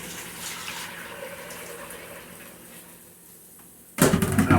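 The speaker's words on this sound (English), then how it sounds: "Pour that gravy right back in there." Gravy is poured back into a pot in a home kitchen, a soft continuous liquid stream running for several seconds before a louder burst of sound at the end, with speech nearby.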